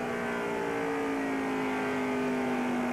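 Race car engines drone steadily at a NASCAR Winston Cup race at Phoenix, the Checker Auto Parts 500, including Rusty Wallace's Miller Lite car, giving a loud, continuous high whine with a slowly rising pitch and no voices.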